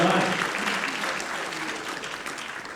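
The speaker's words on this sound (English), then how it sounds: "Give him a round of applause." A GenCon audience applauds, a dense, loud burst of clapping that holds steady and slowly fades, with some crowd voices mixed in.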